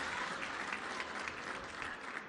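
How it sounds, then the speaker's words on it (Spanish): A crowd at a public event in Guanajuato, Mexico applauds in a steady, even patter, heard quietly and from some distance throughout. "Un gran aplauso."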